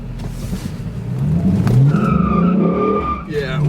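A Dodge Charger SRT8 on Falken Pro G4 Performance tires launches from a red light in cold weather, engine revving hard with tire squeal rising over a low roar, close and loud, with talk audible beneath.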